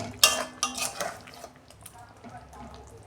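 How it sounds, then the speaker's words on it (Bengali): A metal lid lifting off a pot of potato prawn curry, a couple of sharp close clinks at the start, then a softer rattle and quiet bubbling. "দেখুন বন্ধুরা, ঢাকনাটা আমি খুলছি।"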